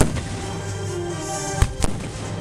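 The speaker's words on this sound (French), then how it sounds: "les coups de canon du château de Belfort annoncent la mobilisation générale" Cannon shots fired from Belfort castle during a village sound-and-light show in Brebotte: two sharp booming blasts close together near the end, standing over a steady hiss and low rumble of outdoor ambience.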